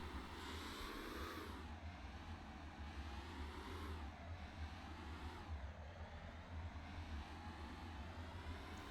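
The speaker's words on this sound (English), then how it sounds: "making them spin really fast and activating" Steady machine whir and hum of an alternator spun fast by bearings in a modded Scrap Mechanic battery generator, a continuous engine-like drone with slow pitch swells, loud and alone throughout.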